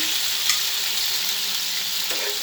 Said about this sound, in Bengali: এগুলো দিয়ে ভালো মতো কষিয়ে দেবো